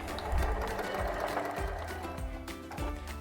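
Domestic sewing machine stitching the seams of a woollen jumper, a steady close mechanical whirr running throughout with slight rhythmic variation and no talk.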